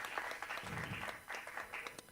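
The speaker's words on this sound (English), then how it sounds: "can you please give him a round of applause, Mr. Sonke Dlamini?" A small audience at an Earth Hour panel event clapping to welcome an academic speaker, a moderate, uneven patter of claps, fairly close and with no voices.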